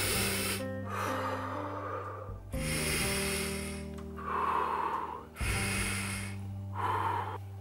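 A person imitates slow, rhythmic breathing while panicking through an episode of sleep paralysis: three loud, rasping, snort-like breaths, each held for a couple of seconds, separated by short gaps, close and alone.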